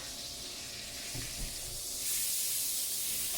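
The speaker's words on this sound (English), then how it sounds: "Oh, that's a good sizzle." Steady hissing sizzle of steak frying fat side down in a hot pan, fairly quiet, with a brief thump partway through and the hiss growing brighter toward the end.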